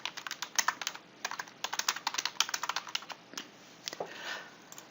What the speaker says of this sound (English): That means you can just begin typing within your notepad.